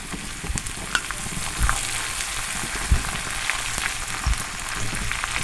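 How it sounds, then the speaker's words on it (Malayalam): Curry leaves, henna leaves and tulsi frying in hair oil on a gas stove are stirred, giving a steady crackling sizzle broken by a few sharp scrapes and clinks of the spoon against the pan. "ഇത് എല്ലാം നല്ലോണം ഇളക്കുക."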